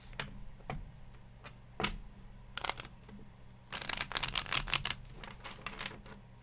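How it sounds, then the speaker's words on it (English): Tarot cards being shuffled by hand nearby, quiet scattered flicks and snaps with a denser burst of riffling clatter midway, fairly faint and with no speech. "Last shuffle for Geminis."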